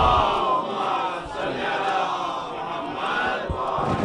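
A large congregation recites salawat loudly in unison during a religious gathering, a dense, reverberant chorus of many voices swelling and falling in long phrases, close and full.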